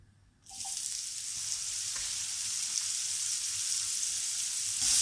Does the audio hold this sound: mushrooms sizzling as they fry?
yes